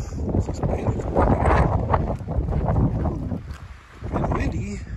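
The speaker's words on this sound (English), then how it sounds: "And windy." Wind gusting across an exposed hilltop ridge on a mild day while hiking, a steady broadband roar buffeting the microphone with a brief lull near the end.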